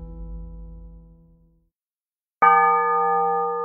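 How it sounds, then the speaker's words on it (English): A town bell in an audio drama rings out in a single loud, ringing strike after a brief silence, its bright tone sustaining and slowly decaying, with an earlier stroke fading away beforehand. "The tolling of the town bell continued, far past the point of being any useful sort of alarm"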